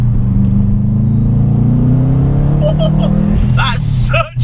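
Subaru Impreza RB320 accelerating hard under turbo boost, a loud, steady engine drone rising from inside the car, with a few short beeps and chirps near the end.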